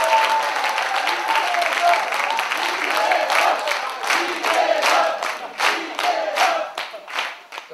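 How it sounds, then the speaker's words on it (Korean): Loud, close applause from a crowd at a Korean political party rally, brisk clapping with scattered shouts, thinning into uneven bursts toward the end. "큰 박수 한번 부탁드립니다."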